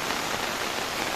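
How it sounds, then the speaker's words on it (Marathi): Heavy rain falls during a flood on village houses and tiled roofs, a dense, loud, steady hiss with no pauses. "हे बघा जोरात असा पाऊस पडतोय इकडे."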